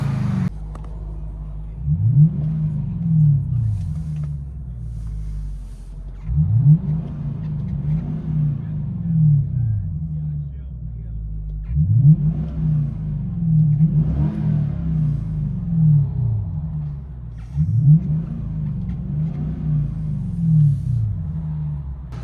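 2006 Lexus SC 430 with its 4.3L V8 and rear muffler deleted, heard from inside the cabin: four deep revs rise and fall in turn, each a loud rumbling swell that settles back to a low idle.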